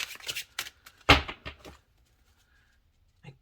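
A deck of Phantomwise tarot cards on heavy cardstock being shuffled by hand: a quick flurry of crisp riffling and slapping for nearly two seconds, then near silence and one last soft tap.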